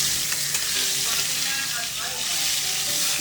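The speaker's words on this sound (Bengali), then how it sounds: "জ্যান্ত মাছ ভাজা খুব সমস্যা, জ্যান্ত বানানো তো খুব সহজে ভেঙে যায়, সাবধানে ভাজতে হয়" Fresh whole fish frying in oil for a cooking-game picnic, a steady dense sizzle and crackle filling the whole stretch, close and continuous with no talk.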